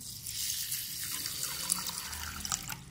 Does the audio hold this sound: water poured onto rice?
yes